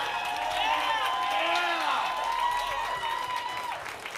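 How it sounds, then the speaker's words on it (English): A crowd applauds and cheers at a School of Rock senior show concert, a steady mass of clapping with whoops and shouted voices on top, loud throughout and easing slightly at the end. "we can't clap loud enough for Nicole."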